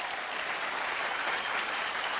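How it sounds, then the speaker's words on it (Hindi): Steady, dense applause from a studio audience at a comedy show, loud and sustained throughout without a break. "मैं चाहूंगा कि इन सब लेजेंड्स के लिए एक बार जोरदार तालियां।"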